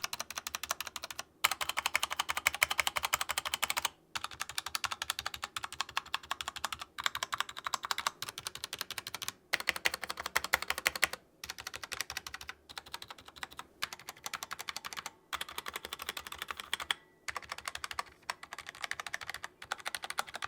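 Typing on a Redragon K530 Pro mechanical keyboard with modded stabilizers: close, dense bursts of clacky keystrokes in rapid runs separated by brief pauses, with no talking.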